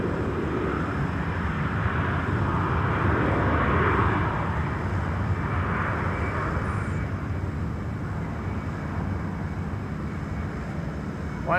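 China Airlines Boeing 777 on the runway at Amsterdam Schiphol, a loud sustained jet roar with broad rumble that swells slightly early on and then holds steady, fairly close and without talk.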